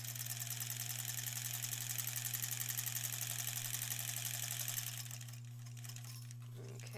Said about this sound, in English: let's sew all the way around.